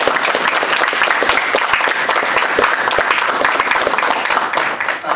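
Loud, close applause from a JROTC audience welcoming General Lynch, dense steady clapping from many hands that carries on for about five seconds before beginning to taper.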